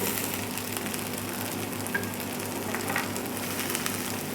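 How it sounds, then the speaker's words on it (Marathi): Onions sizzle steadily in a hot pan for a spicy mutton curry, a continuous close crackle and hiss with no voices. "आता आपण हा कांदा बऱ्यापैकी आपला फ्राय होत आलेला आहे"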